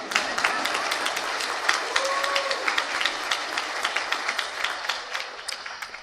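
A lecture audience gives steady, moderately loud applause, many hands clapping in a dense patter that continues throughout without talk.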